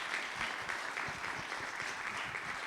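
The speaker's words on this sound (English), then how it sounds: "Let's give Artur another round of applause." An audience gives a brief, steady round of applause after a talk on hand engraving, a dense wash of clapping from a roomful of people at moderate, even loudness.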